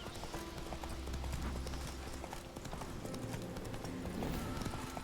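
Horse hooves clip-clop in The Witcher 3 on Skellige, a steady trotting patter under game ambience and a low droning background, continuous through the stretch with no voices.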